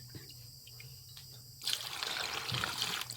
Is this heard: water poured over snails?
yes